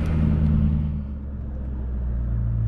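A 2003 Ford Mustang Cobra Terminator making about 500 wheel horsepower rumbles steadily while driving, with a deep, close, continuous low-pitched engine drone and no speech.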